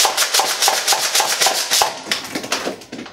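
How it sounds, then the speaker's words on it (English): Nerf Rival Hades blaster slam fired with the priming handle pushed repeatedly, giving about a dozen rapid, evenly spaced sharp plastic clacks and foam-ball thumps at close range, then a few softer, irregular mechanical clicks as the firing slows. "every time you push this forward, it's going to fire"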